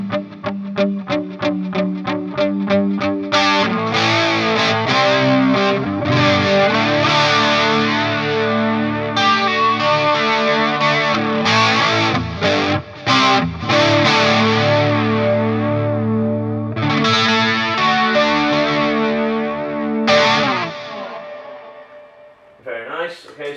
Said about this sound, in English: So I kind of cover a kind of crunchy 80s stuff.